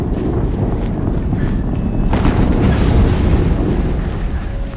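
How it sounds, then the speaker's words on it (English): An explosion rumbles through a scene in the video game Horizon Zero Dawn, a loud, sustained low roar that swells midway and slowly fades, with no voices over it. "Another explosion."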